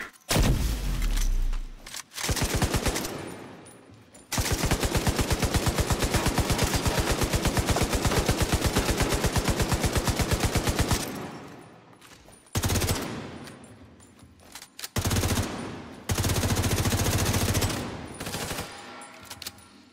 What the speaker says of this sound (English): No, she has a turret, bro. It's a double turret.